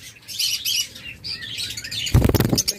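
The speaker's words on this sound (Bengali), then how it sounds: "রেড আইস ফিশার জোড়া" A breeding pair of red-eyed Fischer's lovebirds calls close by in repeated high, shrill chirps, followed near the end by a brief burst of fluttering wings, with no talking.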